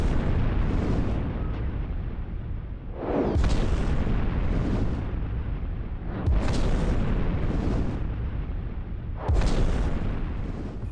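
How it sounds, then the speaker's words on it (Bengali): Bombs fall and explode in a wartime audio drama set near Chittagong during a Japanese air raid, with several deep rumbling booms rolling one after another about every three seconds, loud and continuous with no speech. "ওরা বোমা ফেলছে"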